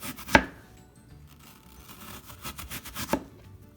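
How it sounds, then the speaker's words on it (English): A knife slices apples thinly for a vegan apple kugel, two sharp close cuts hitting the board with soft handling noise in between. "So just go ahead and start slicing as thin as you can"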